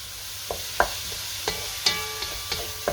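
Onion with salt and black pepper is stirred in a pot, a spoon giving a few separate scraping clacks at an uneven pace over a faint sizzle.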